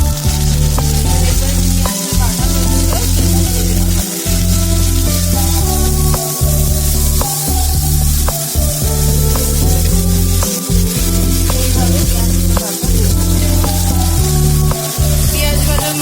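Prawns fry in a pan for prawn malaikari with a loud, steady sizzle, broken now and then by brief pauses and light scraping and stirring sounds close by.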